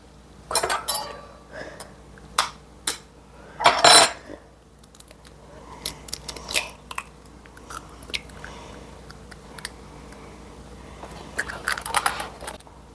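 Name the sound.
cracking eggs into a bowl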